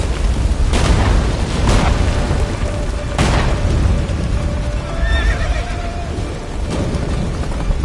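Roach, the horse in The Witcher 3, gallops hard with steady pounding hoofbeats under a loud, rumbling battle din, letting out a drawn whinny near the middle.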